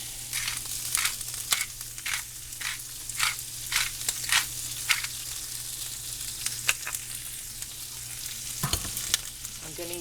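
Cabbage seasoned with salt and pepper fries in a pan, a steady sizzle broken by repeated stirring scrapes at an uneven rhythm, close and moderately loud with no talking.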